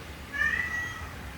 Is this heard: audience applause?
no